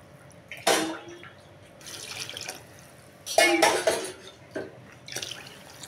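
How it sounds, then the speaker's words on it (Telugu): Water splashes into a pot of rice and dal mixture in a few separate pours. The pours are close and of moderate loudness, with short gaps of quiet between them, and no one talks. "మనం 1 గ్లాసుకి గాను 2 గ్లాసులు వాటర్ పోసేసుకున్నాం."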